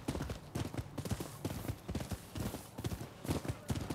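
Horse hooves clip-clopping in the video game Rise of the Ronin, a steady, close rhythm of trotting hoofbeats repeating throughout at moderate loudness.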